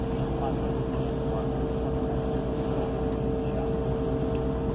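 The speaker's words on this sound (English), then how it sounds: "she's an authentic Mississippi style paddle wheel vessel." Authentic Mississippi-style paddle wheel boat, driven by two diesel hydraulic stern paddles in Plymouth Harbor, gives a constant low engine rumble with steady wind and water noise throughout.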